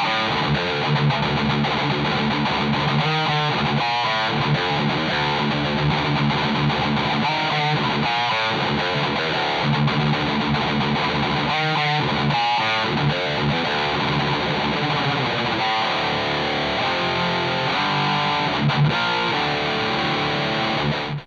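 An ESP LTD TE-200 electric guitar with ESP-designed LH-150 pickups plays a heavy distorted tone, with dense chugging riffs and sustained chords at steady, loud level throughout, alone with no voices.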